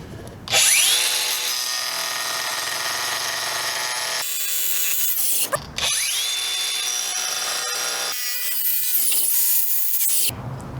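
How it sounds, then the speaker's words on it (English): A Montolit diamond wheel on a power tool notch-cuts ceramic tile in two loud, sustained high-pitched grinding passes, each spinning up and ending abruptly, with a brief pause between them and no talk. "We will first quickly notch cut this ceramic."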